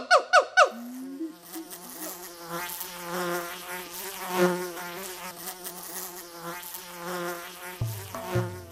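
Insects buzz in steady, overlapping whines of mosquitoes, moderately close and continuous, with a few louder tonal bursts at the start and a low swell near the end; no voices.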